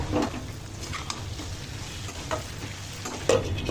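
Curry leaves frying in hot oil over low flame with potato and carrot for a catering-style cabbage fry, a soft continuous sizzle broken by occasional stirring scrapes and light clinks.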